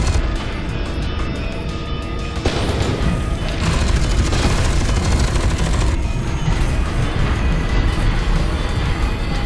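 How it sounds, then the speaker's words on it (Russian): Heavy, continuous gunfire and explosions in the video game F.E.A.R. 2, a dense loud barrage of shots and booms with no pauses. "Кто в меня стреляет?"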